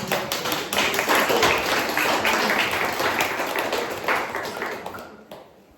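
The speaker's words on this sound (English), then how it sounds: "Let's give a round of applause to the panelists" Audience members clap for a panel on listening to and collaborating with landscape, a moderate round of sharp, individual claps that thins out and fades to near silence at the end.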